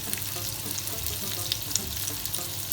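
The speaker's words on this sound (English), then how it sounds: "And I'm going to saute that for about 5 minutes till your onions go" Onion and garlic sauteing in butter in a pan, making a steady close sizzle with faint crackles and pops throughout.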